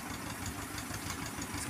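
A tractor engine runs steadily in a cotton field during pesticide spraying, a continuous low rumbling drone with faint vibration, moderately loud and without talk.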